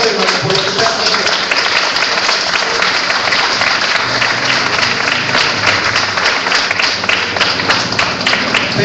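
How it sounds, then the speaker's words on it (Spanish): A church congregation bursts into loud, sustained applause, a dense, steady wash of many hands clapping that runs throughout, with some voices mixed in. "Un fuerte aplauso al Señor, hermanos, por lo que está haciendo."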